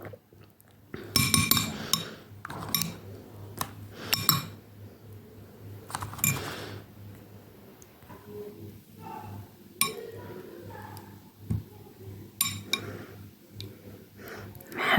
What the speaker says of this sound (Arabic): نحاول نخلط مزيان